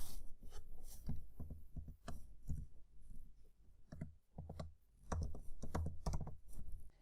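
Bursts of keystrokes on a computer keyboard entering a keyword, irregular clicks in quick clusters with short pauses, close and fairly quiet.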